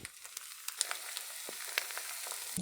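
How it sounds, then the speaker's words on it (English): Cottage cheese curd pancakes sizzle in an oiled frying pan, a steady close crackle and hiss with small pops scattered throughout, no voices. "now it's time to place our cheese curd pancakes. Oh, hear that sizzle?"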